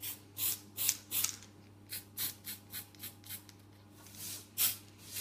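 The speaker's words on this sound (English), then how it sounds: "I'm just spraying this now just to get it" A can of PME gold luster spray hisses onto a cake in a series of short, close bursts with an uneven rhythm and one longer pause, with no talking.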